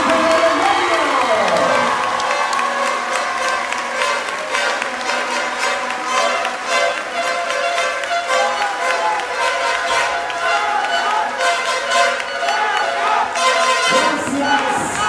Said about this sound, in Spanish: El aplauso grande para Pasión Cristal y para Ángel de los Medios.